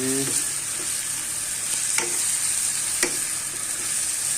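Onions and green chilies frying in a home kitchen pan give a steady loud sizzle throughout, with a few soft scrapes of stirring, and no voices.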